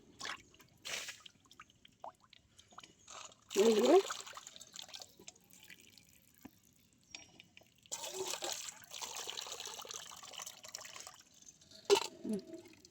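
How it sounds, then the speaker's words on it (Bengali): Sea crabs being washed under water, with intermittent splashes and sloshing bursts separated by quiet gaps, close and moderately loud, and a voice speaking at times. "এর মধ্যে কোনো যদি কাদা থাকে তাহলে সেটা ধোয়া হয়ে যাবে, পরিষ্কার হয়ে যাবে।"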